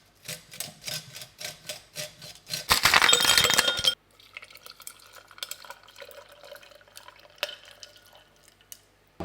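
Glass and ceramic clinks with small pours and drips, then a burst of loud hissing like a grinder or steam, followed by quieter clatter and tapping.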